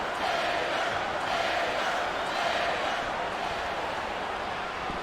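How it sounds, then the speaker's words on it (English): A wrestling arena crowd in the WWE Smackdown vs. Raw 2008 video game roars and cheers continuously, a dense, steady wall of crowd noise with no distinct individual voices. "I think these superstars are getting some feedback from the crowd, JR."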